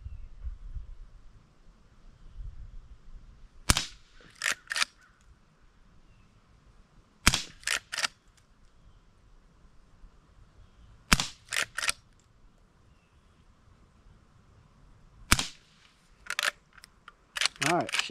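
An original Marlin Golden 39A takedown lever-action .22 rifle fires .22 short rounds in four separate bursts of three to four quick, sharp, fairly quiet cracks, with low background rumble between them.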